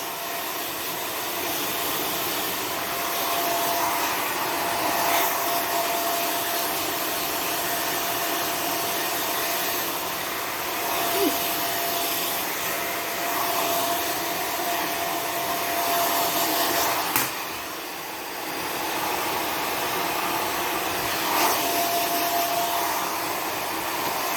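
A hair dryer runs steadily and loudly for the whole stretch while drying hair during a home haircut, a constant whooshing blow with small shifts as it is moved, and no one speaks.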